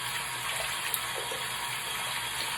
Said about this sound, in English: rinse out your bowl and do it now